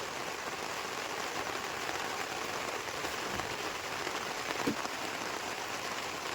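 Rain falls steadily outdoors as an even, continuous hiss of drops, moderately faint and unbroken across the whole stretch.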